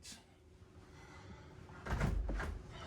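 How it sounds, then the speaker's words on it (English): After a quiet stretch, a door slides open with a low rumbling scrape and a brief rattle, fairly close and moderately loud. "I'm going to open the door"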